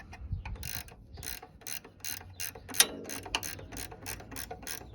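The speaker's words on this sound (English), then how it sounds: "now I've got ratchet spanner here" A ratchet spanner clicks in quick repeated bursts while working a bolt on the exhaust of a Triumph Speed Twin motorcycle, close up and crisp, with a few metallic knocks and no talking.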